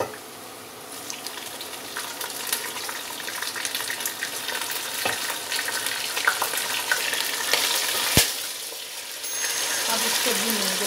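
Mutton pieces fry with browned onions in a pan, a steady broadband sizzle with crackling. A single sharp clack sounds near the end.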